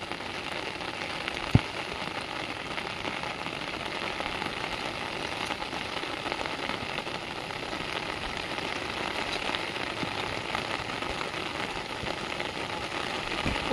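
Steady rain falls over fields and a pond, a soft even hiss of drops with one brief knock early on, faint and without talk.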